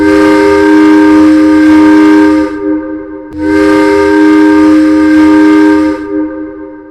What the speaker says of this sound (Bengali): হঠাৎ শুনি ইঞ্জিনের হুইসেল বাজছে তারস্বরে